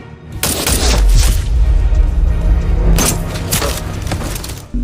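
Several loud, sharp bursts of gunfire from a sniper film, with booming impacts, clustered in two volleys amid rumbling cinematic effects.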